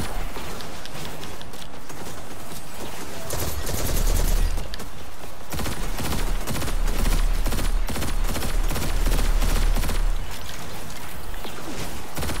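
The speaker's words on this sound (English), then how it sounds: "And I keep using the blast rifles." Blast rifle fire in Destiny 2 comes as rapid, continuous bursts of sci-fi gunfire, loud and dense, with heavy low thumps building midway and repeated sharp shots stacked over one another.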